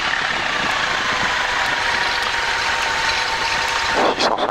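A light aircraft engine idles during a ground idle test, a steady close drone with an even mechanical hum and a slight rise near the end, heard from inside the cockpit.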